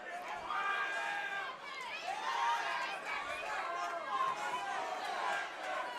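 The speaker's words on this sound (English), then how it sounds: "You just got to love the crowd." Arena crowd at a boxing match between Brandon Higgins and Nick Molina, a continuous loud roar of shouting and cheering voices that swells and dips across the whole stretch.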